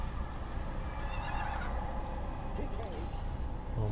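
A horse neighs in the fantasy strategy game Total War: Warhammer II, a whinny rising and falling over a continuous bed of game ambience, with faint clip-clop and other animal calls mixed in.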